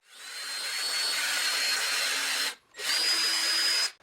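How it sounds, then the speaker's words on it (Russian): A cordless screwdriver spins a 2 mm drill bit into oak, boring guide-pin holes for the bottom of an oak barrel; two steady, close, whining runs separated by a brief pause, with no voices. "используя обычный шуруповерт и сверло диаметром 2 мм, я сверлю отверстия под направляющие штифты"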